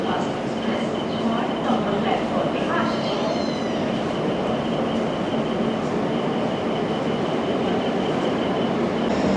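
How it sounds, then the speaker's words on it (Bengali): The Chennai–Howrah Mail pulls in at a platform of Kharagpur station, a steady rumbling roar of train and rail noise with a faint high whine, sustained and fairly loud throughout. "চেন্নাই হাওড়া মেল আসছে 6 নম্বর প্ল্যাটফর্মে।"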